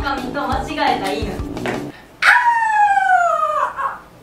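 A human voice imitates a dog howling like a wolf: one long, wavering, falling howl that follows a moment of quick talk.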